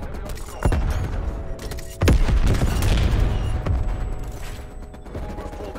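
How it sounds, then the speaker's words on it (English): War Machine grenade launcher firing in Call of Duty Cold War, with heavy booming blasts at irregular intervals over a busy game soundscape of distant gunfire and mechanical noise. "War machine prepping fire."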